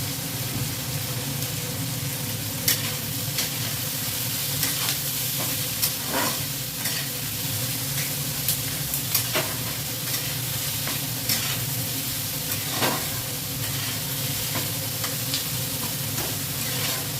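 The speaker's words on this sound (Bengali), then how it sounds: "পেঁয়াজটা ভাজা ভাজা হয়ে এসছে, কালারটা চেঞ্জ হয়ে গেছে" Onions frying in a pan with a little salt, cooked until reddish-brown, steady sizzle with repeated scraping stirs of a spatula, close and continuous with no talk.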